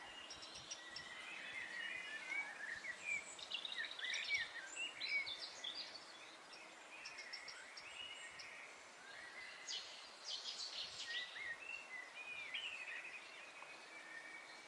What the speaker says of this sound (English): The warbler down the river somewhere.